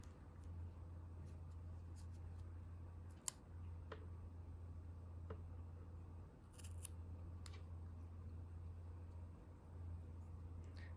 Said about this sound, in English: When you have a desired number of stitches, you can cut your waste yarn.